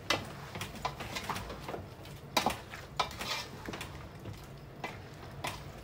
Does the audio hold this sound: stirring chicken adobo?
yes